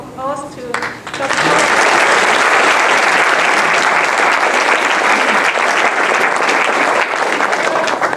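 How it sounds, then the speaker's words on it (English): Sustained applause from a seated audience at the close of a scientific talk on vitamin D and calcium research, beginning after a brief spoken moment and continuing loud and steady for several seconds. "Give a round of applause to Dr."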